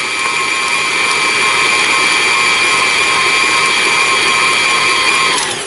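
An electric hand mixer turned up to a higher speed whirs steadily as it beats egg and sugars together in a mixing bowl for cookie dough, a continuous loud high whine that cuts off abruptly at the end.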